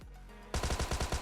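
Rapid automatic gunfire from the battle-royale game PUBG Mobile cuts in abruptly after a quiet half-second, a loud, close burst of evenly spaced shots continuing to the end.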